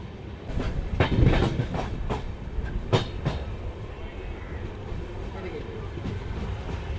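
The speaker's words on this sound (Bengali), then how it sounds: "মালদা টাউনের পরে আমাদের ট্রেন এখন এসে পৌঁছেছে শামসিতে" The Howrah–Radhikapur Kulik Express runs on rails near Shamsi in Malda, giving a steady rumble inside a carriage with clicking joints and a few sharp clacks, while passengers talk faintly.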